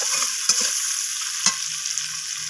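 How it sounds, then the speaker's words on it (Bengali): Sliced onions fry in rohu fish oil in a pan, a steady bright sizzle with two short knocks of a spoon stirring them, and no voices. "পেঁয়াজগুলো দিয়ে আমি মাছের তেলের সাথে এইভাবে নাড়াচাড়া করে ভেজে নিচ্ছি"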